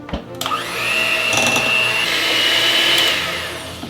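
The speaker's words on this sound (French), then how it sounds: "Et on mélange." Cheesecake batter with sugar being mixed by an electric mixer, a loud steady whir that starts abruptly and holds with a bright whine and slight pitch shifts, close by and without talk.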